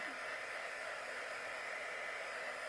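A hair dryer blows over a decoupaged spaghetti sauce jar, a steady, even whoosh of air that holds unchanged for the whole stretch at a moderate, fairly faint level, with no other sounds.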